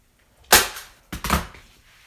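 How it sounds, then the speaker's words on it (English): A staple gun fires twice into fabric pulled over the corners of a DIY pressing surface, each one a sharp, close snap with a short tail, about half a second apart. "be mindful where you're putting your staples because you will have to staple your fabric again too"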